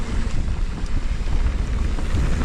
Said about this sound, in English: The wind probably doesn't help.